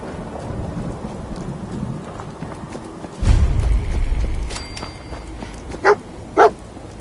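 Dog barking in the video game Fallout 4 amid a thunderstorm, with steady rain and a rumble of thunder, followed by two sharp barks near the end.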